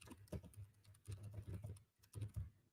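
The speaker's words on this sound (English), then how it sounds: "How do you like the sound of my keyboard, Katru?" Typing on a bright, clicky computer keyboard, with rapid clustered clacks in bursts and short pauses between them, close and fairly quiet.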